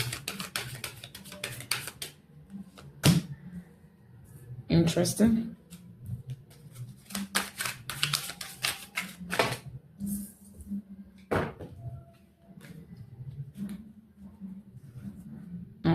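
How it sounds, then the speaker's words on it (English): A deck of tarot cards is shuffled by hand in quick, crisp bursts of light slaps and clicks, close up, while a person talks softly throughout. "let me shuffle again"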